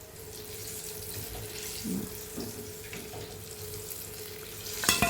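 Sweet chana dal poornalu deep-fry in hot oil, giving a faint, steady bubbling sizzle with a low hum underneath and a few soft clinks near the end.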